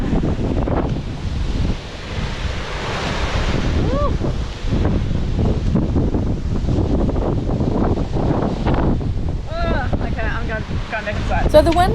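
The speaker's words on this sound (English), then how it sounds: "the nor'west finally arrived" Strong nor'west wind gusts batter a house truck in New Zealand during extreme weather, a loud roaring rush buffeting the microphone throughout, with a voice speaking over it now and then.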